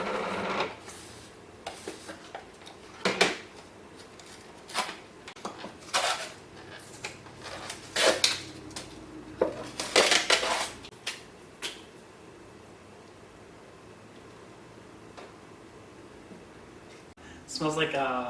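Supplement powder is scooped and poured into plastic shaker cups, bringing irregular clattering taps, scrapes and lid clicks scattered across the stretch, with a person talking between the handling noises.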